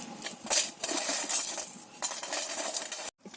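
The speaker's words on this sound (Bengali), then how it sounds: "কাঠি ভাজাগুলো সব ভাঙা হয়ে গেছে দেখো" Crisp fried kathi bhaja sticks snapped by hand for homemade chanachur, giving a dense run of dry crackles and brittle clicks close by, with a brief pause near the end.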